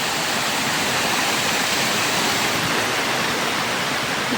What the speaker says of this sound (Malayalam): കാട്ടിൽ നിന്നാണ് ഇട്ട് വരുന്നത് അല്ല ഇങ്ങനെ വെള്ളം വന്നുകൊണ്ടിരിക്കുന്നു